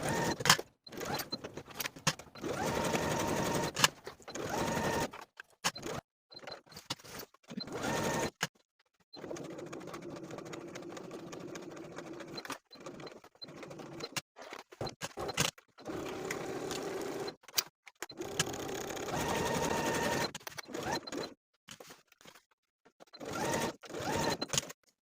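A sewing machine stitches the facing onto a vest, whirring in several bursts of a few seconds each and separated by short silent pauses, close and alone with no talking.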